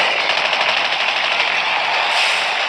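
Sustained automatic gunfire from the Call of Duty Mobile video game roars loud and dense as one continuous burst with no pauses, no voices over it.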